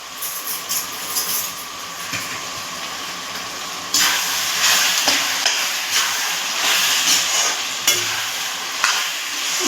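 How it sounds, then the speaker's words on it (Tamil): Country chicken sautés with turmeric in a hot pan, a steady sizzling hiss that swells louder partway through, with scraping stirs cutting in at intervals, close and without talk. "நல்லா வதக்கி விட்டுக்கலாம்"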